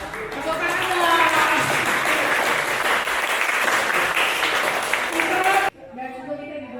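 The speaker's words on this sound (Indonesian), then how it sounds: "Akhirnya gedung kita jadi Pak ya. Tepuk tangan dong." Sustained, loud audience applause at the inauguration of a new building, dense clapping that fills the space for several seconds before cutting off as a voice resumes speaking.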